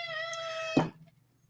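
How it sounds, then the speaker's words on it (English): A whiny domestic cat gives one drawn-out, clearly voiced meow lasting most of a second, close and fairly loud over a low steady hum, then cuts off into near silence. "I've got a whiny cat in the background"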